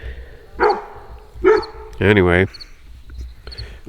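A dog barks a few times at close range, short sharp yips followed by a longer drawn-out bark, with someone speaking briefly.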